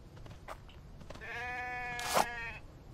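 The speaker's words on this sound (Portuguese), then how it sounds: "A ovelha vai ser mais fácil." Sheep in The Infected survival video game bleating, one clear wavering bleat near the middle and a shorter sharp cry at the end, faint and close over quiet ambient noise.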